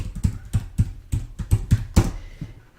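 Typing on a computer keyboard while writing C# code, about ten crisp, close key clacks in an uneven rhythm over a couple of seconds.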